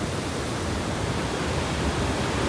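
A river waterfall below the Galdhara Khodiyar temple roars at full pressure after flooding, a loud, dense, unbroken rush of falling water heard up close with no voices.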